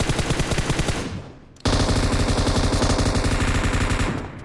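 Rapid automatic gunfire in the PUBG Mobile video game sounds as loud, dense bursts, one stream fading and then a stronger volley cutting in and continuing almost without break.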